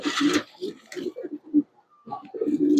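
Domestic pigeons on a small home farm coo close by in short, throaty bursts with brief pauses between them.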